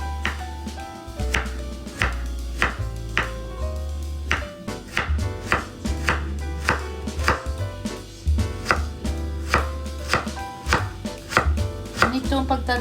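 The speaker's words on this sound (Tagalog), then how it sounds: "Itong pagtagtad ko guys para even lahat, pati yung celery at yung sibuyas." Knife chopping celery and onions on a board for homemade spring rolls, a steady run of crisp, close blade strikes repeating quickly and evenly over music-free kitchen quiet.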